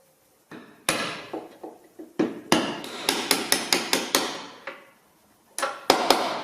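Hammer blows on a drift knocking out a seized pin in a Land Rover bulkhead flap mechanism, sharp metallic strikes in uneven bursts, a quick run of regular hits, a pause, then a few more.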